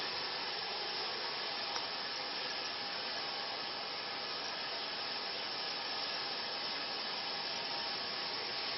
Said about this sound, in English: this thing is really steaming along